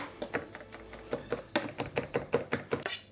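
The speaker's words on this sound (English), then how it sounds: "So I just like to start by chopping it roughly." A knife roughly chops a garlic clove on a cutting board, making a quick, slightly uneven run of about fifteen close, crisp taps with no talking.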